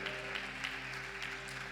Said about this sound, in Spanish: ¿Cuántos le dan un buen aplauso a Dios que quiere bendecirte esta noche?